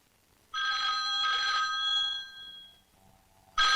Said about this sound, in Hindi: Phone phone.